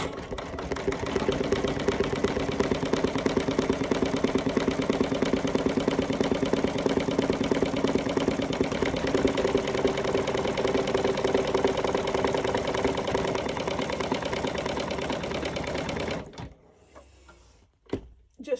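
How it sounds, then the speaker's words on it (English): Embroidery sewing machine stitching a droid design, a steady, continuous mechanical whir that runs close and loud for about sixteen seconds, then stops abruptly, leaving a few faint clicks. "Put my foot back down and finish my stitches."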